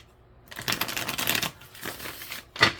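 Tarot cards being shuffled by hand, a quiet, close riffling and rustling over about a second, then a softer burst of card movement and a brief final snap.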